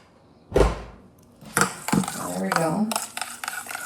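Meatloaf sauce ingredients are mixed with a whisk in a bowl, giving a clatter of sharp knocks followed by rapid scraping and tapping strokes, with a short spoken phrase midway.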